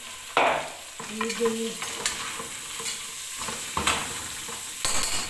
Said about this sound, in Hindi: लहसुन ब्राउन हो गया, अब मैं इसमें जो है बंद गोभी डाल दूँगी।